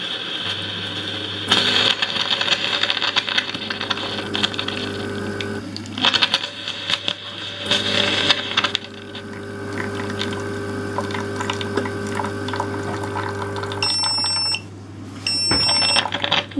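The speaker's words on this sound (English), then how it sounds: "That's the hot water going in." A baby formula machine hums with a steady pump drone as hot water runs into a bottle, broken by a couple of short electronic beeps near the end.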